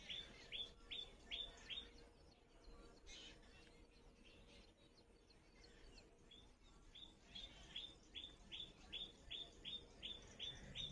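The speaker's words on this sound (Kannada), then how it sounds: "ಸೈಲೆಂಟಾಗಿದ್ದರೆ ಇಲ್ಲಿ ಪಕ್ಷಿಗಳದ್ದು ಚಿಲಿಪಿಲಿ ಶಬ್ದ ಕೇಳಿಸುತ್ತೆ." Small birds chirping outdoors near Chitradurga in Karnataka, quick bright tweets in clustered bursts at the start and end of the stretch, moderately close over a soft ambient hiss, with no talk.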